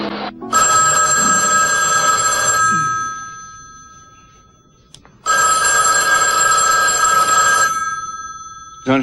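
A telephone bell rings loudly and close by in two long bursts of about two seconds each, with a short quiet gap between them and the start of a third ring at the end; no one speaks.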